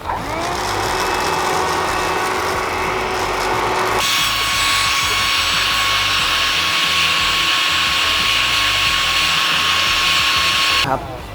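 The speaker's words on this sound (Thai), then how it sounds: "ตัวนี้เราก็ใช้เครื่องดูดฝุ่นดูดทำความสะอาดนะครับคราบของกาแฟที่ติดค้างภายในออกให้หมด" A vacuum cleaner sucks leftover coffee grounds out of the inside of an Anfim Pratica coffee grinder. It gives a loud, steady motor whine that shifts to a harsher tone partway through, then cuts off near the end.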